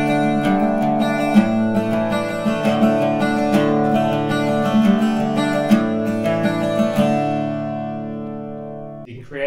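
Irish bouzouki strummed in a driving jig rhythm, the final beat of each bar accented; steady, close and bright, with ringing chords that sustain and fade at the end.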